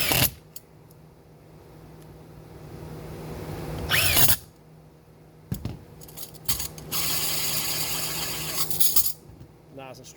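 Screws are driven into a lazy Susan mechanism: separate bursts of close, buzzing power-driver whirs, one short and one longer, with clicks and handling noises between them.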